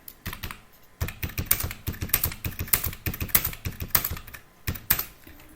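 Rapid bursts of keystrokes on a computer keyboard as values are entered into an Excel payslip sheet, close and crisp clicking in uneven clusters separated by short pauses.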